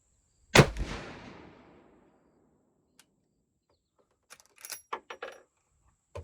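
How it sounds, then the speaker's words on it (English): A single sharp, loud rifle shot from a Henry 360 Buckhammer outdoors cracks and rolls off into a fading echo, followed by quiet and a few small metallic clicks and rustles from handling. "We're gonna shoot one more."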